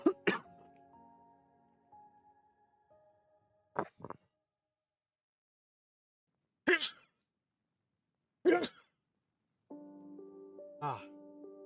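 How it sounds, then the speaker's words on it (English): A sneeze among several short, loud bursts of throat clearing and coughing, separated by stretches of near silence, with a brief spoken sound near the end. "Sorry about the sneeze there."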